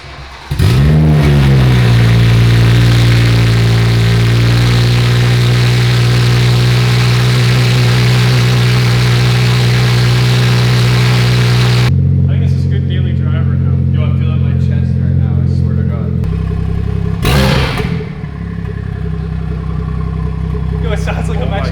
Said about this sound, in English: It's time to hear this thing open dump.